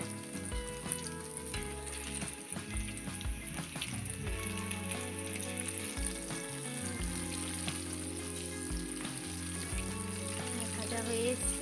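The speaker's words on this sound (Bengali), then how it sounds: "একটু সময় নিয়ে গোল্ডেন ব্রাউন করে ভেজে নেবেন।" KFC-style chicken popcorn deep-frying in oil until golden brown, giving a steady, close sizzle that runs through the whole stretch with no talk.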